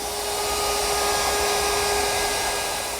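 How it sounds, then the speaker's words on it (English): A handheld router cuts chamfers along wooden table rails, its motor holding a steady, loud high-pitched whine for the whole stretch with no speech. "I'll make the chamfers with my handheld router"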